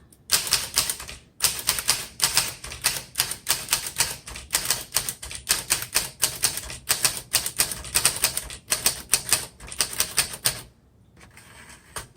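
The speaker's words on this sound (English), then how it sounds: "I really like how this feels as I'm typing." Typing on a 1941 Corona Sterling vintage typewriter: a fast, steady run of loud, close mechanical key strikes with a brief pause near the start, then stopping just before the end.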